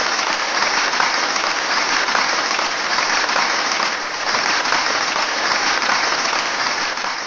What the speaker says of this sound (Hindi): इन दोनों के लिए हम सब लोग तहे दिल से जोरदार तालियां बजाएं